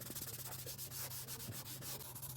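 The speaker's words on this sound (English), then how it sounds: "Once it's dry, sand it with 220" Sandpaper rubbing dried wood filler on a cracked wooden table, a steady close scratchy back-and-forth sanding that continues without pause and with no voices.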